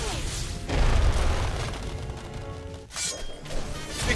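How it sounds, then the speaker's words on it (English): A Missile Barrage attack in the video game Costume Quest lands as a rolling series of loud booms and crashing impacts, one heavy blast followed by a second burst of explosions near the end. "Missile Barrage! Let's see if I can take out both these jokers in once."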